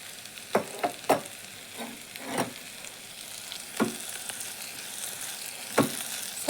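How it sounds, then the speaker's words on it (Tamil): Vegetables and masala being stirred in a pan, a steady sizzle broken by a series of sharp spoon scrapes and clinks at irregular intervals, close and moderately loud with no talking. "சேர்த்து நல்லா கலந்து கொடுத்துட்டு"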